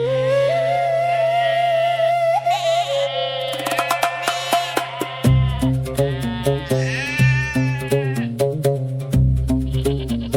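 Sheep on a farm in Thanaikilappu, Jaffna bleat loudly and close, with several wavering cries that overlap and repeat throughout. Other farm noise sits underneath.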